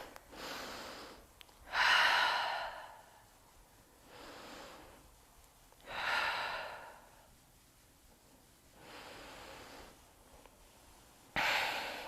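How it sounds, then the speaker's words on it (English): Slow, deep breaths during a yoga relaxation, several long airy inhales and exhales spaced a few seconds apart, soft and close with quiet pauses between them. "We're gonna just take 5 breaths here."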